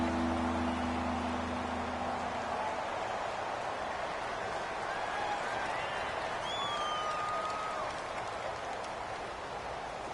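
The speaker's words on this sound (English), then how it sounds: "the crowd getting into it as we come up on a big third down" Stadium crowd in a football video game on PS4 roars and cheers ahead of a big third down, a steady, dense wash of crowd noise running the whole time with no one talking over it.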